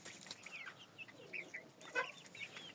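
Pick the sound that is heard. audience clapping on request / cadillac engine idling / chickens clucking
chickens clucking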